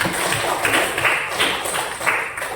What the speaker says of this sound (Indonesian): Aplaus dulu buat Putri.